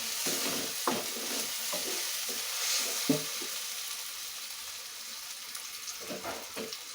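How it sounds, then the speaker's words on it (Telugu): Chopped onions sizzling and frying in a pan while a fish curry is being made, with steady hiss and occasional clinks and scrapes of stirring throughout. "ఉల్లిపాయలు వేగుతున్నాయి కదండి, ఒకసారి కలుపుకుందాం."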